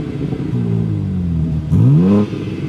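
A BMW M4 Competition exhaust drones steadily, then swells into a short, loud rising rev as the car accelerates, heard up close with no voices.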